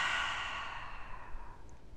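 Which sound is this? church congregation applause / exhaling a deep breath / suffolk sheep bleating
exhaling a deep breath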